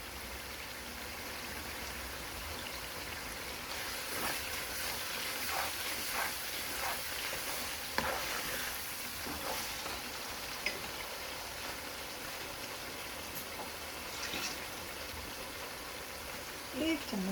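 Spices frying in ghee in a pan while making lauki and chana dal, a steady hiss and crackle of sizzling that runs continuously, moderately quiet, with a few clinks of stirring.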